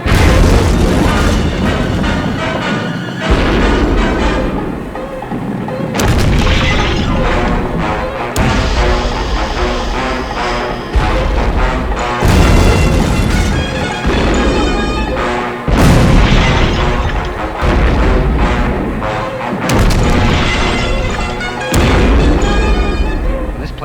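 Explosions and a salvo of rockets in a Thunderbirds episode: a rapid series of loud, close booms and blasts in repeated bursts, separated by brief gaps, dense and heavy throughout.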